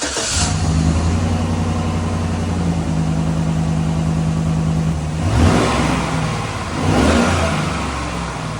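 A car fitted with a new straight-through muffler without packing idles with a deep, throbbing burble, then blips its engine in two loud revs that rise and fall back to idle.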